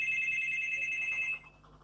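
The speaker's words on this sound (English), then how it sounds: "Somebody's ringing my bell." A doorbell rings with a steady high electronic tone at home, clear and fairly close, then cuts off abruptly, leaving faint room sound.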